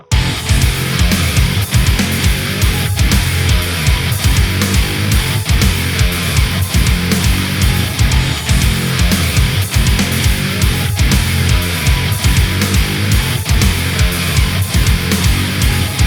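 A dense math metal track, with heavily distorted low guitars chugging in tight syncopated patterns over pounding kick drums and sharp snare hits, loud and continuous with no voices.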